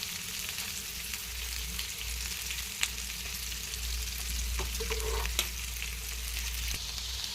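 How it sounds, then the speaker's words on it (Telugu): Thinly sliced ivy gourd (dondakaya) frying in a hot pan, a loud, continuous sizzle with occasional stirring scrapes and taps throughout. "సన్నగా తరిగిన దొండకాయలని యాడ్ చేస్తున్నాను"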